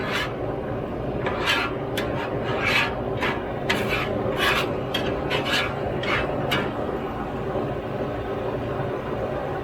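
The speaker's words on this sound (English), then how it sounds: "So we're going to scrape up all those scrapings." Metal scraper rasping across a BlackStone griddle while gumbo cooks: a quick series of sharp scraping strokes over a steady sizzling background, close and moderately loud, then the sizzle continues alone.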